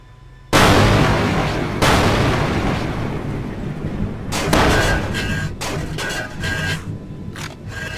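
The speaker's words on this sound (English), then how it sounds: "I'm getting shot at" Gunfire striking a player's large ship in Space Engineers, a sudden heavy impact followed by booming hits and scraping metallic crashes in uneven bursts, loud and close, with no talking.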